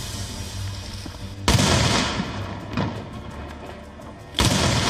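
Hand grenade blasts, two sharp loud booms with rolling rumble after each, separated by a smaller thud and a background engine-like drone.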